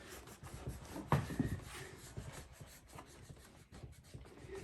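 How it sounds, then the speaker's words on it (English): Rubbing on top of a wooden tree piece, heard as a soft, steady scraping rasp, close by and fairly quiet, with a brief louder scuff near the start and irregular strokes throughout. "I'm rubbing on top of the tree where the candle is."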